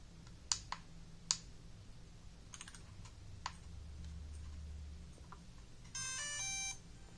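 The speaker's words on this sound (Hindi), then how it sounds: "ये ब्लेड्स थोड़ा सा मूव करके एक बीप साउंड देते हैं" A DJI Mavic Mini drone powers on, giving sharp clicks from its twitching propellers and then a short series of electronic beeps near the end, all close and fairly quiet over a low background hum.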